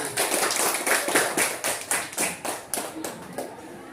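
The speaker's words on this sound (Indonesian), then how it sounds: "Tepuk tangan semuanya." A class claps hands together in a short burst of fairly rhythmic, sharp claps that tail off toward the end.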